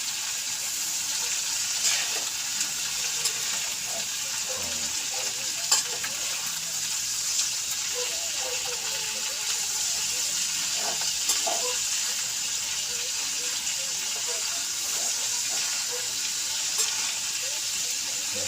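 Winged beans are sautéed in a pan with a steady, even hiss of frying oil that runs throughout, broken by occasional faint knocks and scrapes of stirring.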